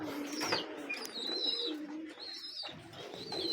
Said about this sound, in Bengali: আমার লফটে আরও কবুতর রয়েছে